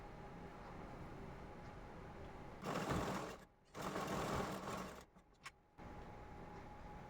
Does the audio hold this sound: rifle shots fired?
no